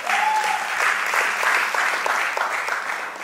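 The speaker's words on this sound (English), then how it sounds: "Round of applause for her" An awards-ceremony audience gives a round of applause, a steady, moderately loud patter of many hands clapping with a brief tone at the start.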